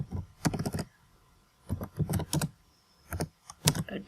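Typing on a computer keyboard while writing text into a PowerPoint slide: several quick bursts of clicking keystrokes separated by short pauses, close and clear with no other sound.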